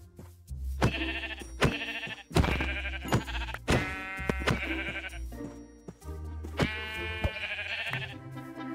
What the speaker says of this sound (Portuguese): avistei algumas ovelhas e logo comecei a matá-las para pegar sua lã